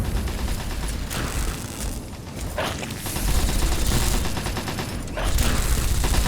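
Gunfire in Fallout 3 during a fight with a sentry bot and ghouls: dense, loud bursts of shots and mechanical clatter that pause briefly around the two- and five-second marks, then resume.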